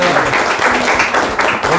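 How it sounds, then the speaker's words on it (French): A studio audience applauds for Roland, a dense, steady wash of clapping that fills the whole short stretch at close range, with no pauses. "On applaudit Roland."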